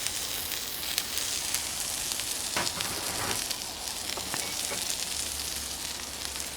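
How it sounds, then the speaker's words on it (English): Potatoes, onions and peppers sizzle in oil on a Cuisinart 360XL flat top griddle, a steady close frying hiss with scattered sharper crackles and pops throughout. "I'm going to toss my onions and peppers right in there."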